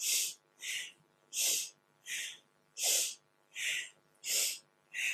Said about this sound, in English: We've got a really nice, big, expansive movement with the breath. Inhaling up, exhaling down.